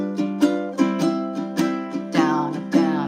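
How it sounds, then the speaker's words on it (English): Ukulele strummed old-school Hawaiian style with plain down-up strokes and no chucks: a steady, bright rhythm of chord strums with clear individual attacks and ringing strings. "when you do ukulele in Hawaii, they do just down, up, down, strums"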